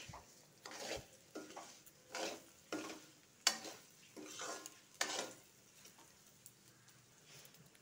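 Rice and mung dal fried in ghee in a pan, a spoon stirring in repeated rhythmic scrapes and clatters over a soft sizzle, close and fairly quiet.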